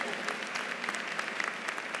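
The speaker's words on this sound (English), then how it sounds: "You need to give yourself a round of applause because you did that." A graduation audience at the Spelman College 2018 commencement applauding, a broad, steady wash of many hands clapping at even loudness, with no other sound rising above it.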